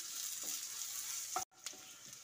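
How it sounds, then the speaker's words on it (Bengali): Chopped onion fries in a pan with a quiet steady sizzle and a couple of soft stirring scrapes, cut by a brief silent break. "এবার এর মধ্যে কুচিয়ে নেওয়া পেঁয়াজটা দিয়ে দিচ্ছি। পেঁয়াজটা দিয়ে 2 মিনিট ভেজে নিচ্ছি।"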